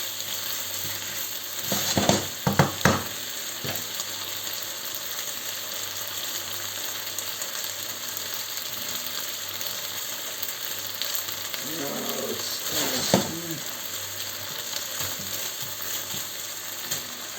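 Ingredients stir-fried in a wok with a pinch of MSG, a continuous crackling sizzle with sharp scraping clatters of the spatula near the start and again later, no talk.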